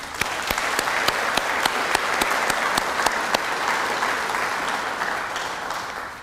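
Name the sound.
audience applauding Uncle Ivan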